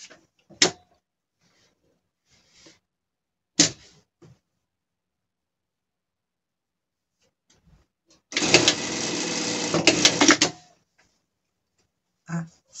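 A sewing machine runs in one steady two-second burst as it stitches a seam on a gaucho-style pet outfit, preceded by a few isolated clicks and taps in an otherwise quiet room.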